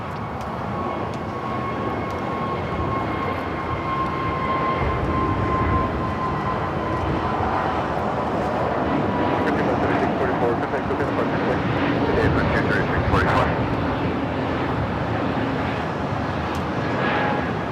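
A Frontier airliner rolls down runway 25 right at Los Angeles LAX for takeoff, a steady, distant jet roar swelling gradually over nearly twenty seconds, with voices heard faintly alongside.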